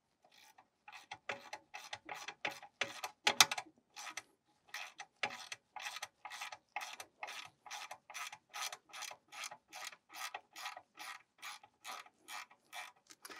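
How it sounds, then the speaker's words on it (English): Ratcheting wrench loosening a brake caliper bolt on a VW Passat TDI, a steady run of crisp, evenly spaced clicks after a few irregular ones, close and quiet with no talk. "you have to use a ratcheting wrench"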